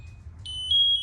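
A short, shrill stage 1 alarm tone from a Honeywell SCBA PASS device kicks in halfway through, steady and piercing over a low background hum.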